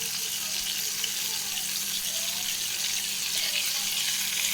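Poppy seed paste and cauliflower sizzle steadily in a pan, a dense continuous hiss with faint bubbling, close by and without talk.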